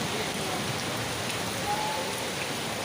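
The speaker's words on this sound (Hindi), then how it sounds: "प्रयागराज में आज तेज़ बारिश हुई" Heavy monsoon rain pours onto the streets of Prayagraj in a dense, constant hiss of drops striking the ground, loud and unbroken throughout, with no voices.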